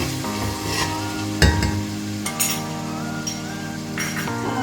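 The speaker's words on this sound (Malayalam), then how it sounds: "നന്നായിട്ട് വഴറ്റിയെടുക്കുക" Beef sizzling and sautéing in ghee in a pan for Kochi-style erachi choru, with a steady frying hiss, a loud clink of a spoon stirring against the pan, and more faint scraping after it.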